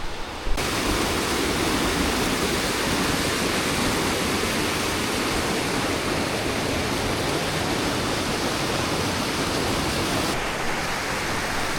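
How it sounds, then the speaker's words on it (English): Rushing mountain creek in the Pyrenees along the Spain–France border, a steady broadband roar of flowing water heard close and loud throughout with no talk. "Alright, down by the creek"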